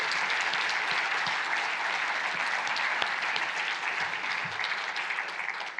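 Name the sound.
audience applauding for the interpreters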